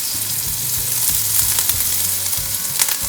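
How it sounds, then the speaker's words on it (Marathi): Chopped onion sautés in a hot pan for baingan bharta, a dense, steady sizzle and crackle of frying close up, with faint stirring scrapes underneath and no talking. "आणि कांदा छान परतून घेऊया."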